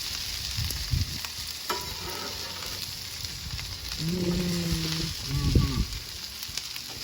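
Pastrami sizzles on a hot griddle with a steady frying hiss, broken by scraping and clatter as slices are slid across the cooking surface.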